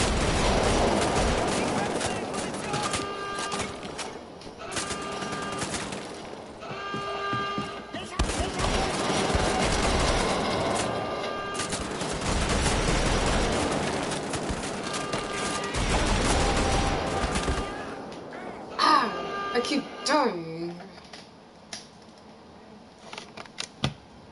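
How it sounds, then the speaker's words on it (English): Rapid gunfire bursts from the video game Wolfenstein: The Old Blood rattle almost continuously for about twenty seconds, dense and loud. The firing thins into a few sharp isolated shots near the end. "My best friend is shooting."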